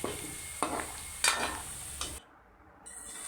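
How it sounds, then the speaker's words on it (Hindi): Onion fries with whole garam masala in a pan, a soft sizzle under several scraping stirs of a spoon, fairly quiet and close, ending with a brief pause. "उसमें प्याज 1 अदद ले लें, उसे अच्छे से फ्राई करें। उसमें गरम मसाले साबित डाल दें और उसे फ्राई करें।"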